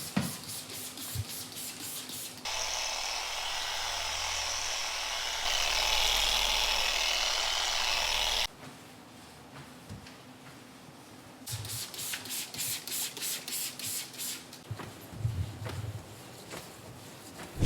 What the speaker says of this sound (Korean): 폴리셔 기계에 양모 패드를 부착해서